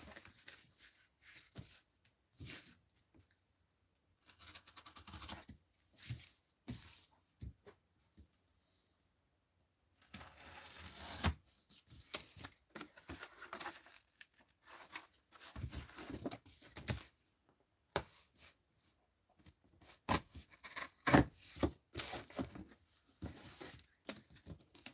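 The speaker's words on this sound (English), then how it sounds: "We're going to cut out another piece here." Dull knife blade slicing through a piece of cardboard in bursts of scraping, tearing strokes separated by short pauses, close and fairly quiet.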